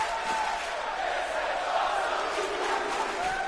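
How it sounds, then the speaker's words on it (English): A live indie wrestling event crowd chants and roars in a steady, loud wash of voices filling the arena. "Finally, the crowd chanting something other than boo."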